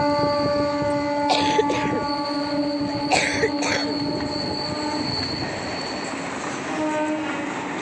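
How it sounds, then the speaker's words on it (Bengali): A train runs past at night along a rail line through dark, empty open ground, its steady close rolling rumble carrying long tonal horn or wheel-squeal notes, with brief louder bursts early on. "দেখো ট্রেনটা আসছে দেখতে পাচ্ছো"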